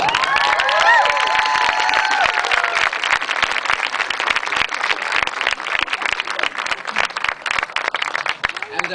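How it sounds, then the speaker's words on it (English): Crowd at an anti-Arpaio protest march in Phoenix applauds and cheers after a speech, a sustained wash of outdoor clapping and scattered shouts with whistles early on, fading slightly toward the end. "So please give yourselves an applause"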